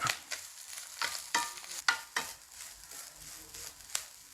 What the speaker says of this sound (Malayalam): ചെറിയുള്ളി വെളുത്തുള്ളി പെരുംജീരകം കറിവേപ്പില എല്ലാം അങ്ങോട്ട് ഇട്ട് കൊടുത്തു നന്നായിട്ട് മൂപ്പിച്ച് വറുത്തെടുക്കാം